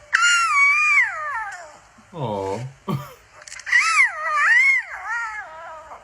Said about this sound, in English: cubs will try to join in even when they aren't old enough to roar yet